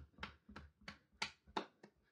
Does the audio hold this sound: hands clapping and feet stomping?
yes